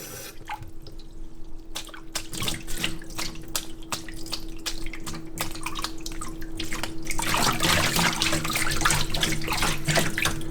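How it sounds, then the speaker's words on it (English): Winter gloves are lowered and submerged in a tub or sink of water, giving steady splashing, dripping and trickling sounds up close, with a constant low hum underneath and a louder rush of water near the end. "putting them down in the water."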